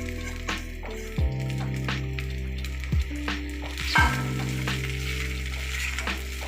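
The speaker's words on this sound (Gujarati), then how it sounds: "હવે એમાં જે પૌવા લીધા છે એ એડ કરી દઈએ।" Poha flakes tipped into a hot pan sizzle and fry steadily while a spoon stirs them, with a few sharp scraping knocks against the pan at intervals and no voices.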